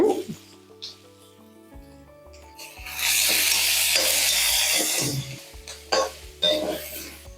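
Onion, turmeric and salt masala for an egg curry sizzles and sautés in a pan, with intermittent stirring scrapes and a louder burst of frying in the middle, close and alone.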